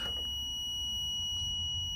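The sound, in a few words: multimeter continuity test beep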